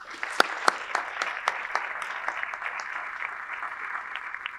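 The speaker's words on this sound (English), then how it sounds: "Please give them a round of applause." Applause from an awards-ceremony audience thanking event sponsors: a steady mid-distance crowd clapping that holds for several seconds, with a few sharper individual claps standing out near the start.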